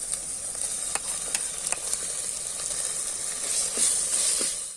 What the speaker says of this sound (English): We are now putting ginger garlic paste over it